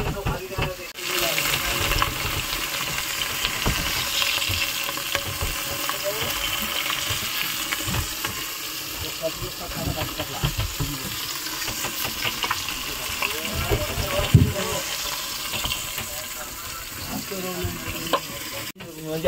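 Dried fish frying in oil aboard a fishing boat off Satpati, Mumbai, a continuous close sizzle and crackle with some watery splashing, while people talk over it.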